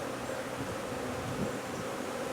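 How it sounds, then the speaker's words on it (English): Honey bees bringing pollen into a hive make a dense, steady buzzing hum, close and continuous. "This is where the bees are with pollen."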